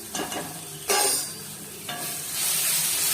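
Turmeric and chili powder sizzling in hot oil in a pan for a spicy lote fish curry as a spoon stirs through, with bursts of bright hiss and scraping strokes rising and swelling over a few seconds, close and steady, no voices.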